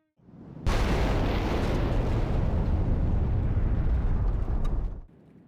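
A medieval gunpowder cannon, an early bombard, goes off in a sudden heavy blast that becomes a long rumbling roar lasting several seconds before cutting off, loud and alone.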